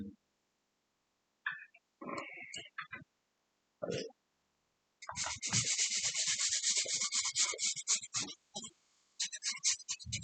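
Close, scratchy back-and-forth rubbing of sandpaper on a wooden guitar body in a sustained burst, with short bits of quiet talk before and after.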